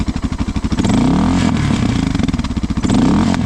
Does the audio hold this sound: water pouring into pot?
no